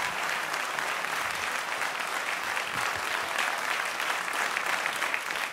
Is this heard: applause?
yes